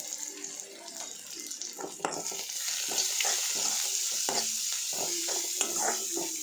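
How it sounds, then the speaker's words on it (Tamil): Ingredients sauté in a pan with a little salt for an egg curry, a soft sizzle under repeated spatula scrapes and taps that grow busier after the first couple of seconds, with no voices. "கொஞ்சமாக உப்பு சேர்த்து வதக்கி விடணும்"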